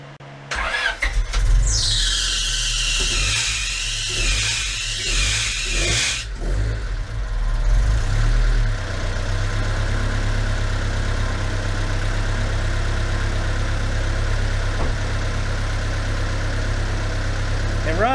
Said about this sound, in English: Ready to fire it up and let it idle 1500 RPMs for 20 minutes.